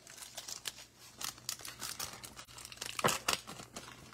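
Foil trading card packs, 2022 Optic football blaster packs, torn open in quick crinkling rips, with close, repeated crackling tears and bursts of foil crumpling across the whole stretch.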